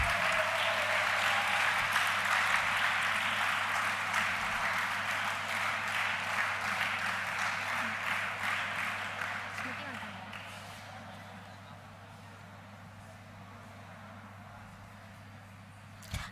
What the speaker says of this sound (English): Put your hands together, guys.